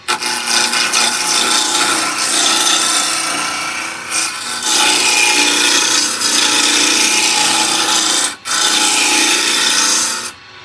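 Roughing gouge cutting a spinning wood blank on a lathe, a loud continuous scraping hiss that rolls on for several seconds, with two brief dips where the tool lifts off the wood.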